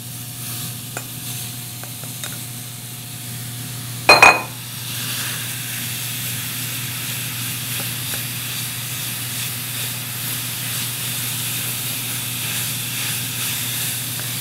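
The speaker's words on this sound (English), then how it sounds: "sizzling." Food drops into a hot pan with a sharp burst, then settles into a constant, steady sizzle and hiss that continues alone.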